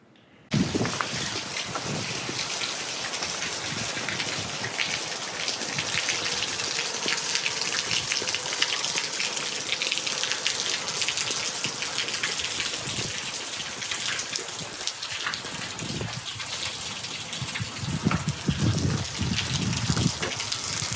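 Heavy rain pours down steadily beneath a roof, a dense, constant hiss of drops with scattered nearer splashes, running loud from start to finish.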